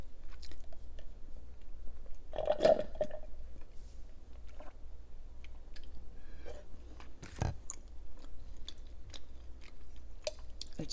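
Close chewing of homemade prawn crackers, with soft, wet, irregular mouth sounds and occasional crunchy bites, one louder crunch near the start, spread over a quiet low hum.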